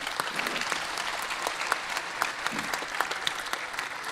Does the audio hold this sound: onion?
no